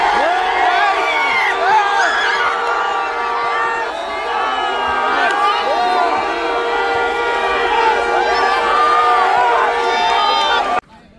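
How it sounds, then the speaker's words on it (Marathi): Outside a Hanuman katha, a large crowd of devotees waiting for darshan of Dhirendra Shastri fills the air with a dense, continuous roar of voices and occasional whoops, which cuts off abruptly at the end. "बाहेर बघा गाईस, बाहेर किती गर्दी आहे."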